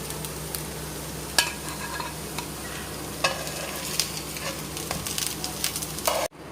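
Veggie burger patties sizzle and fry steadily in a pan, a continuous crackling hiss with occasional sharper pops and scraping, heard up close with no talk.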